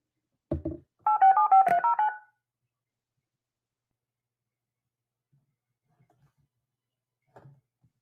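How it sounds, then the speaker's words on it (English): Touch-tone telephone dialing while phone lines are started up for a call-in show: a short click, then a quick run of about six DTMF beeps, followed by near silence and a faint click. "Starting up the phone lines."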